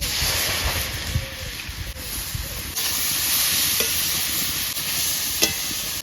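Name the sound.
frying chopped carrots in ghee, stirring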